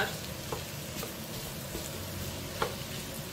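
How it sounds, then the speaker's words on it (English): Mushrooms frying in a pan with onions give a soft, even sizzle with a few light stirring knocks, close but quiet and without speech. "I'm going to add my mushrooms."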